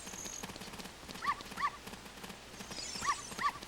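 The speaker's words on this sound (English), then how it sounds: "we need to attract the attention of this white dog here" A white dog in Ocarina of Time gives two pairs of short, bright barks or yelps over a steady game background, close and moderately loud.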